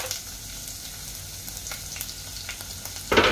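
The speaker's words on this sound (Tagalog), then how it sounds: "Magpasabayin natin siya gisahan hanggang sa mag-brown." Sliced ginger and garlic sautéing in hot cooking oil for a Filipino ginataang gulay, a steady close sizzle and crackle with a few sharp pops and a louder burst of frying at the end.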